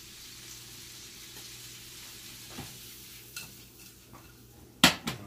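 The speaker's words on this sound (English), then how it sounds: "So about 2 ounces, 2-3 ounces of shrimp. Sauteing them." Pre-cooked, lightly cajun-seasoned shrimp, about two to three ounces, sauté in a pan with a soft steady sizzle and scattered stirring taps, ending in a sharp metallic clatter of utensil against pan.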